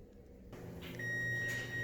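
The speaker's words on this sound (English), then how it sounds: "our timer just went off" A kitchen oven timer goes off while buttermilk biscuits bake, a steady high electronic tone starting about a second in and holding over low room hum, with no voices.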